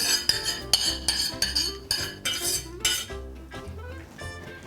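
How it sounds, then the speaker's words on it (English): Steamed vegetables are spooned into a pan of béchamel sauce, with repeated close clinks and scrapes of a utensil against metal cookware in an uneven rhythm. "I'm going to add the steamed vegetables to the sauce directly."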